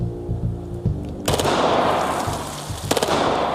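A Glock 17 pistol fitted with an illegal auto sear fires on full automatic, a sharp loud burst breaking in after a quieter lead-in, followed by a second crack near the end.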